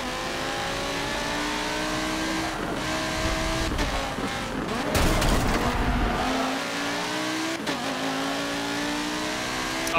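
Race car engine in Forza Motorsport 7, revving steadily and rising through gears with loud, continuous drone, a brief burst of tire and engine noise midway, no talk over it.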